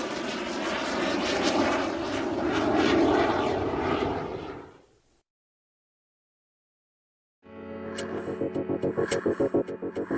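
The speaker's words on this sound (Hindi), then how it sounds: "बाबा ने फाइटर जेट को नीचे उतारा।" Cartoon-style fighter jet effect: a loud roaring engine rush that fades out, then after a silent pause a throbbing propeller-like engine drone with a steady pulsing beat, no voices.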